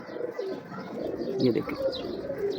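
Pigeons coo repeatedly up close, soft rolling calls overlapping with a few faint chirps against a quiet background.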